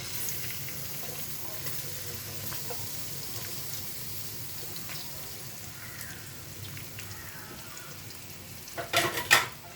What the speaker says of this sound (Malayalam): അപ്പോൾ ഇത് നമ്മുടെ എണ്ണ ചൂടായി കഴിഞ്ഞാൽ സവാള ഇടുക